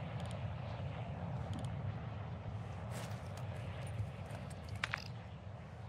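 In the Call of Duty Modern Warfare II DMZ video game, an extraction helicopter drones faintly in the distance, a low, steady rumble with scattered footstep-like taps.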